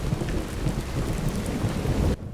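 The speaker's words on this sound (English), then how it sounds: "They've added rain to make it even more dramatic, of course." Steady, dense rain pours in a dramatic TV drama scene as a continuous loud hiss with a low rumbling undertone. It cuts off abruptly near the end.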